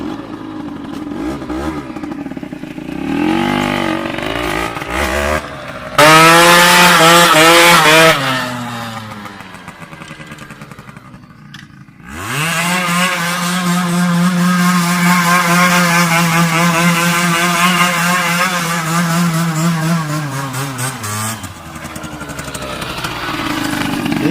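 A moped engine runs close and loud for the whole stretch, revving up and settling into a steady buzzing drone. Its pitch rises and falls with the throttle, and there is a brief drop near the middle before it picks up again.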